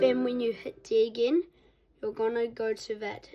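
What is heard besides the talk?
No everyday noises stand out.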